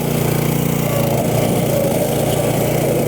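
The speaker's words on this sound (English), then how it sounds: "lift my blade, skid steer the thing around" A Boss Snowrator snow plow drones loudly and continuously up close as it turns and lifts its blade, its engine steady with a faint rattling texture throughout.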